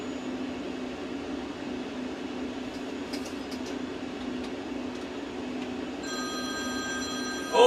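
A mobile phone rings inside a moving truck, its short bright tones sounding over the steady road and engine drone, with no talk over it.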